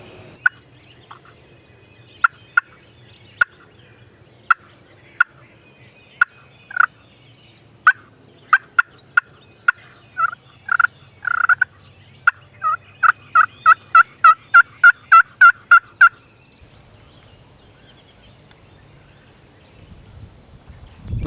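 Wild turkeys in the Kentucky woods gobbling in a series of distant calls, several separate gobbles followed by a long rapid run of gobbling bursts, then quiet except for faint rustling near the end.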